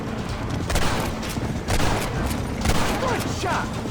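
Gunshots in the Red Dead Redemption video game, a steady fusillade of overlapping shots in a loud outdoor firefight, with voices calling out over it.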